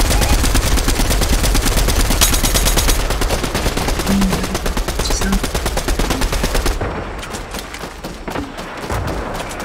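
Dense automatic gunfire and overlapping shots from a Fortnite match, loud and continuous for most of the stretch, thinning out near the end with scattered bursts and faint voices underneath.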